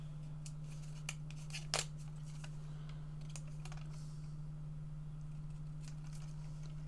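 A few sharp snips and clicks of scissors cutting paper, sparse and close, over a steady low electrical hum.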